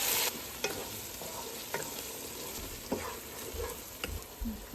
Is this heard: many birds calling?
no